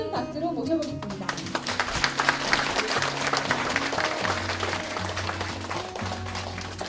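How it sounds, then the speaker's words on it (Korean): A lecture-hall audience breaks into loud, sustained applause to welcome a speaker, dense clapping holding for several seconds while a low murmur of voices runs beneath. "큰 박수로 모셔보겠습니다"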